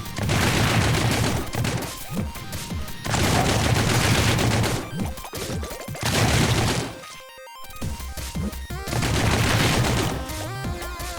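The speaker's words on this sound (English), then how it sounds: "the spread shot makes it very easy to overfire because it fires basically so fast and heats up so fast" Spread shot weapon in the Hive Jump video game firing in fast, dense bursts, loud and continuous, with brief pauses between volleys.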